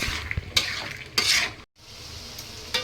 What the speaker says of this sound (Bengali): একটু নাড়াচাড়া দিয়ে কষাই নিচ্ছি যাতে এই আলুর ভিতরে আমার মশলাটা একটু সুন্দরভাবে ঢুকে যায়